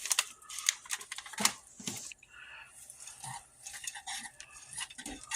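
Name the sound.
mixing Thanksgiving stuffing in a pot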